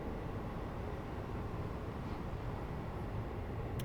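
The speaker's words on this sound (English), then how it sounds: "That's definitely quite trainy." A simulated train on the West Coast Mainline South in Train Sim World 5 rumbles on steadily, a constant low drone at moderate level with no voices.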